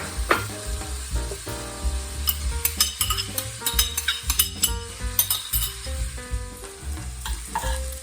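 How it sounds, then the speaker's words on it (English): Vegetables and onions sautéing in a pan make a loud, continuous sizzle and crackle close up, with a steady run of utensil stirs, scrapes and clinks against the pan and no voices. "So the vegetables have been sauteing for a little while now, and the onions are starting to caramelize."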